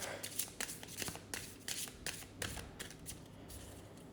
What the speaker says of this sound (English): So let's just shuffle it and let's clear the deck.